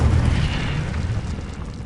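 Incendio fire spell blast in Hogwarts Legacy, a deep rumbling boom that roars loudly from the start and holds as a sustained fiery whoosh, with no talk over it.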